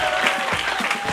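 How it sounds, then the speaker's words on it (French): Audience at an improv match applauding both teams, a dense, steady burst of clapping from a crowd, close and fairly loud for its short length. "On peut applaudir les deux équipes bien fort."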